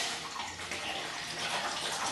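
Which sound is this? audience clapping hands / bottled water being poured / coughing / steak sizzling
bottled water being poured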